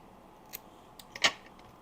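Scissors trim a scrap of yellow paper for a postage-stamp collage, making a few quick, close, crisp snips, the loudest one near the end, in an otherwise quiet room.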